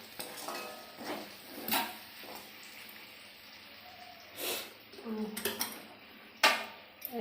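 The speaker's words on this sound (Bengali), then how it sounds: "কড়াইটা মাজা।" Someone scrubs a karai (wok) clean, making close, intermittent scraping, metallic clanks and clinks in short bursts over quiet background.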